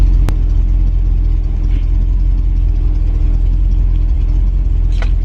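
A 1983 Ford Ranger with a swapped 5.8L V8 runs close and loud, a steady, throbbing engine note with a brief click near the start and only slight rises in pitch.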